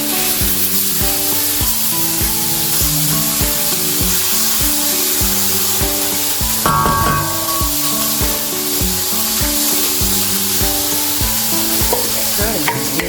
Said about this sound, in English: Then we'll just saute for about 2 minutes